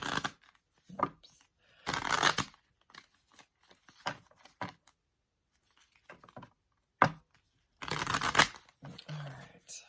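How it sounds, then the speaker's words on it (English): Holographic tarot cards are shuffled by hand in several quick riffling bursts, close and crisp, separated by quieter handling taps and soft rustles. "I do a pre-shuffle so that I don't have to drive you nuts with the shuffling with my tiny hands"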